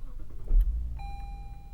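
Engine starting on a 2021 Lexus LS 500 sedan, heard from inside the cabin: a brief crank and low rumble settling into a steady idle, joined by a thin sustained electronic chime.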